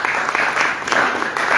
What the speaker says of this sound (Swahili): tuwapigie makofi mazuri